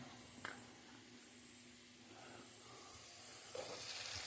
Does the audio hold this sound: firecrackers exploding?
no